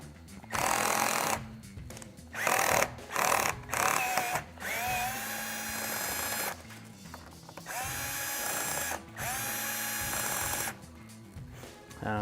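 T30 Torx bolts being removed from the roof rack cover on a Land Cruiser 100 Series, a power driver whirring in repeated short bursts, some brief and some sustained, loud and close, with no talking.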